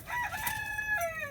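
A Bantam rooster kept with hens in a backyard coop crows once, a single clear, fairly faint call held for about a second with a drawn-out falling tail.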